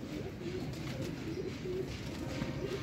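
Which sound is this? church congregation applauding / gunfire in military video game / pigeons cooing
pigeons cooing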